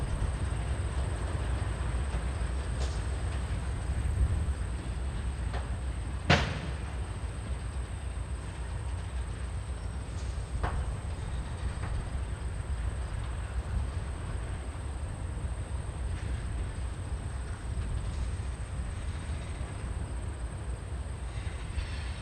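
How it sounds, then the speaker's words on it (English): Light railway engines idle and shuffle while a train is prepared in a Minneapolis yard, giving a steady low rumble with a few sharp metallic clanks and a sustained high whine, all at moderate distance and with no talk. "These were the light engines we saw from Mounds Boulevard earlier,"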